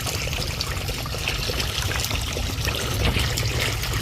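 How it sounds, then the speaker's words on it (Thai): Released water trickles and splashes steadily into a natural frog-raising pond, a dense, continuous close-up flow with outdoor ambience. "ก็ปล่อยน้ำซะละ"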